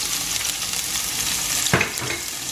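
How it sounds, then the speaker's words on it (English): Onions sizzling in hot oil for a mixed seafood stir fry, a steady close hiss of frying with a brief louder crackle and stir partway through, no talk. "Can you hear the sizzle?"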